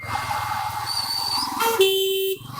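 A 2024 Bajaj Pulsar N160 motorcycle's horn honks in a long steady blast near the end, over the low rumble of its idling engine.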